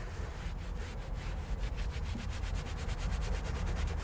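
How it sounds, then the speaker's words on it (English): Leather surface being scrubbed with cleaner in a back-and-forth, cross-hatching pattern, giving a steady rhythmic rubbing with regular strokes that quicken toward the end, close and continuous without talk. "Same process for scrubbing back and forth, side to side, kind of like a cross-hatching pattern."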